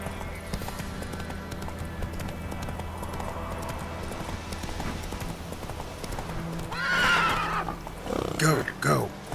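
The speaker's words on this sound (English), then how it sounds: "Come on, Roach" A horse in The Witcher video game gallops with steady clip-clopping hooves, then gives a loud, close neigh near the end, with a voice speaking over the hoofbeats.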